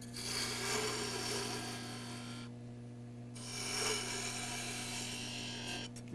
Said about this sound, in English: Now I'm going to use a small gouge to take off some of this extra material here.